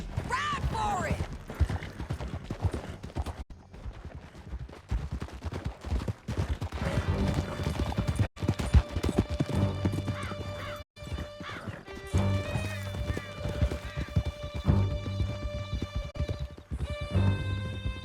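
Horses gallop in the Red Dead Redemption 2 video game: a fast, continuous clip-clop of hooves with occasional whinnies, over game music and clattering effects, with voices speaking at moments.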